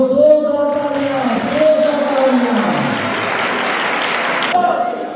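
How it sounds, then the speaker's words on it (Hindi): A church congregation bursts into loud, continuous applause at an Easter service in Pakistan, a dense roar of clapping lasting about five seconds, while a voice speaks over the start and a tone lingers beneath. "जोरदार तालियां"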